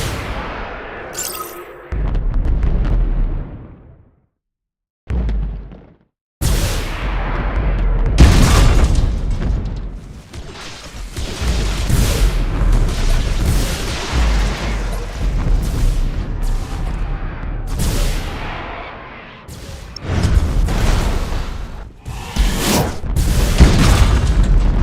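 Starship explosions in the space strategy game Battlefleet Gothic: Armada, set in the Warhammer 40,000 universe: repeated loud booming blasts and rumbling bursts, with a short silent gap near the start and no talking.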